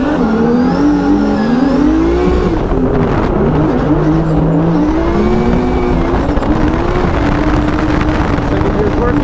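A drift car's engine revs hard during a pro drifting battle in Brazil, with its pitch rising and falling in loud, continuous sweeps and wind rush over the microphone throughout.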